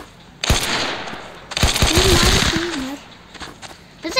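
Automatic gunfire in a Gangs Town Story shootout: a short burst, then a longer rapid volley, then another brief burst, loud and close, with a voice speaking between shots.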